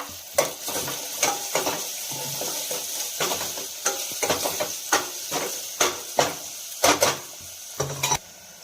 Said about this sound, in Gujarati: ઝીણી સમારેલી ડુંગળી ઉમેરી તેને પણ સાતળી લઈશું।